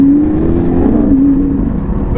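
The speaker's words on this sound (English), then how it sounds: "there is no sound like a Lamborghini V12" A modified Lamborghini Aventador V12 with a sports exhaust and its valves open, producing a loud, close, continuous engine roar whose pitch swells and eases as it revs, with no talking.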